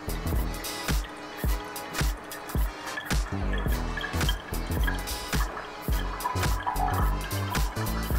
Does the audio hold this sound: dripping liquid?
yes